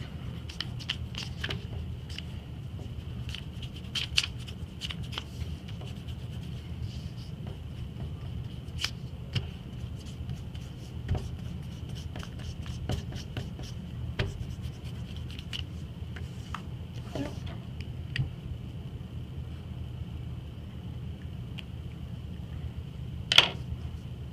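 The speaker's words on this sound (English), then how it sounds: "So I'm going to go all around and erase my pencil lines." A rubber eraser rubs pencil lines off easily torn paper, a faint steady scratchy scrubbing that runs on for many seconds with small bursts and scrapes, close and alone.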